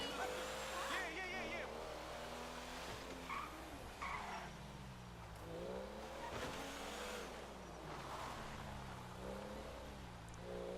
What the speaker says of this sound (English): Now this car here is not real easy to drive.